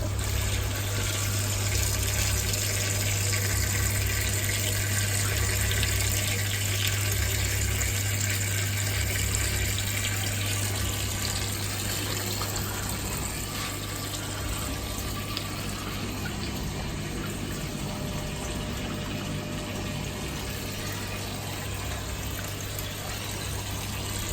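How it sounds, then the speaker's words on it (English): Continuous gurgling and rushing of water being drawn down a Pokpo Genesis aquarium overflow with air mixed in, steady throughout over a low electrical hum. "the overflow is still a little noisy, it's still drawing in a little bit of air"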